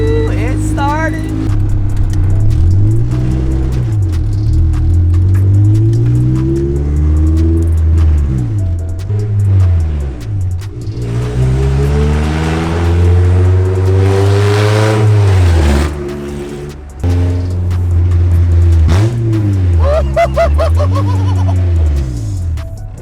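A Honda Civic with a B18C engine revs hard, the loud engine note climbing and dropping repeatedly through downshifts, close by, with people talking and exclaiming around it.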